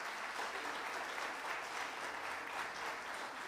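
Steady, even audience applause for a guitarist called to the stage at a French song festival concert in São Paulo, a dense unbroken wash of many hands clapping at moderate distance with no speech.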